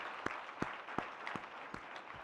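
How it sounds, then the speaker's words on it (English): A few people at an education luncheon clap sparsely and faintly. The claps are distinct, separate and fairly evenly spaced, with quiet room noise between them. "let's give also a huge round of applause to Alejandra Ceja for all of her leadership."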